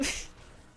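A cat's single short sneeze, a quick burst at the very start and close by, followed by quiet room noise.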